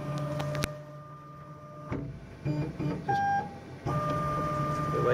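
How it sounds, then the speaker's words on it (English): A Boss laser cutter head runs its autofocus, pushing down to the surface and backing off: a close, whirring motor with short mechanical clicks, brief whines and tonal beeps in bursts, with no talk over it. "Just the laser head pushes down, and it comes back 27 millimeters from the surface."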